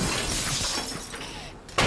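A train crashes in the destruction video game Teardown, making a continuous crunching, shattering roar of breaking debris close by that ends in a sharp final smash.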